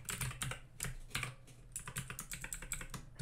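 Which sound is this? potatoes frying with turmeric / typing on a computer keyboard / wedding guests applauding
typing on a computer keyboard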